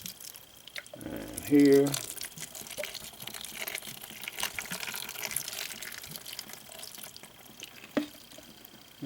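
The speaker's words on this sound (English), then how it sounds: "Now you can hear it dripping." Water sprays from a hose partly covered by a thumb onto sprouting lentils for chickens, a soft hiss with a trickling, dripping patter beneath a few spoken words.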